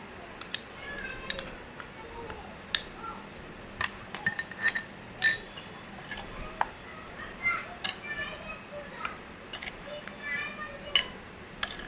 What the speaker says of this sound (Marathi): अशा प्रकारे लसूण अर्ध कच्चं, मोहरी असं आपल्याला मिक्स करायचं आहे